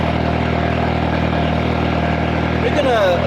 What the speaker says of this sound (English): A little bit loud. It's got big exhaust on it.